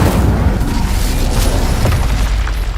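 Incendio fire spell in Hogwarts Legacy roars with a dense, loud booming burst of flame and rumble, sustained with crackling pops throughout and no clear pauses.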